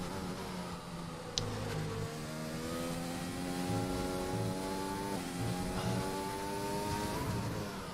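Race car engine lapping Spa in a sim racing game, a steady high whine that rises and falls through repeated gear changes and revs, heard alone with no talk.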